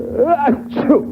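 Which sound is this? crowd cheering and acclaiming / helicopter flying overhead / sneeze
sneeze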